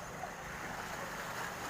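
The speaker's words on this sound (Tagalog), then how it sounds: "Nandito ako sa dagat ng Dumaguete." Sea waves at Dumaguete wash in a steady, soft broadband rush with some wind noise on the microphone, with no one speaking.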